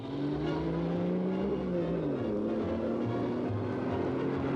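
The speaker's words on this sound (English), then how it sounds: "Another Mercedes in the German team with English ace Sterling Moss at the wheel." Mercedes race car of the German team in a 1950s Italian 1,000-mile road race, its engine droning loud and steady with pitch rising and falling as it accelerates and passes close by.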